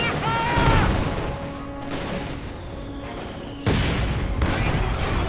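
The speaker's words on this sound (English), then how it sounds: "mortars firing away with glee and abandon" Mortars and other weapons firing in a World War II strategy game battle, several booming blasts and crackling gunfire mixed into a busy, layered combat soundscape, loud and close throughout.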